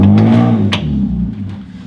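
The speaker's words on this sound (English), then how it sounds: "I apologize for the farty exhaust noises" A car exhaust revs loudly and close by in a garage setting, giving a couple of short throaty blips that rise and then fade out, with no talking.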